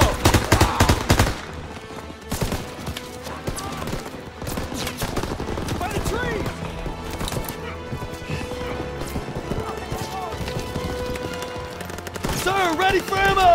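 Machine gun fire on the D-Day beach in Call of Duty WW2, bursts crackling under shouted voices and battle noise, with heavier loud volleys at the start and end.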